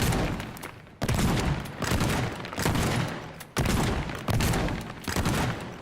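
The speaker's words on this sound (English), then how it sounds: "Oh, that's right. I've seen the shotgun. To shoot holes in walls." Shotgun blasts in the destruction video game Teardown, several loud booming shots in quick irregular succession, each with a decaying roar of debris, close and dominant with no talk.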